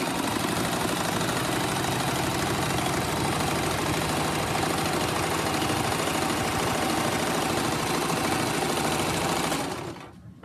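A sewing machine runs continuously while stitching a straight seam on a fabric face mask, a steady rapid mechanical chatter that stops abruptly at the end.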